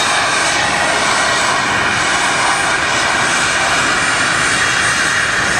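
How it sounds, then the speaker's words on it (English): A continuous loud roar and whine of the auxiliary power unit running on an Airbus A320neo nearby at Luton airport, steady with no pauses. "the APU's running on this 320neo in front of us"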